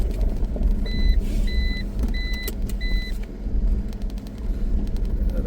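A Force Gurkha 4x4 drives back along a misty mountain road, its engine a steady mid-range hum with road rumble, punctuated by a few short, repeated electronic beeps.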